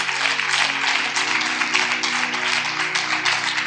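Church congregation at a sermon claps rhythmically and steadily in a continuous, moderately loud wash of applause, with faint sustained tones beneath.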